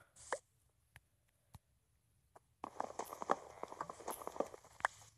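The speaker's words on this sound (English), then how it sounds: "Oh, there's a horse over there." Horse hooves in Minecraft Pocket Edition: a few isolated soft thumps at first, then a dense burst of clopping steps and clattering game sounds through the second half.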